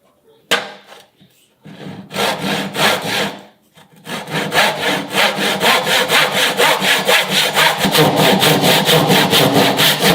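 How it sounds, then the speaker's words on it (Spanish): A hand saw cuts wood with the help of a magnetic saw guide while making a Japanese woodworking joint: a few tentative strokes start the cut, then a steady, close rhythm of rasping back-and-forth strokes builds to a regular pace. "Este corte lo voy a hacer a mano y me voy a ayudar de la guía magnética"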